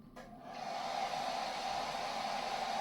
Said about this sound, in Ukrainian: чи потягне вона фен? Вмикай.